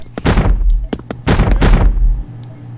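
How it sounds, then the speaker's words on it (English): An M2 weapon in the audio FPS zombie survival game Swamp fires a few loud, booming shots in quick succession, each followed by a ringing ricochet-like tail, close and punchy. "It's like this one shot. weapon, and it makes this ridiculous, like, ricochet sound and this reload sound."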